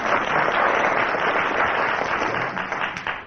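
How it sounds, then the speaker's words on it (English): A studio audience at a radio comedy panel show breaks into steady, dense applause, loud and sustained throughout before thinning slightly at the end. "I think that's worth a round of applause."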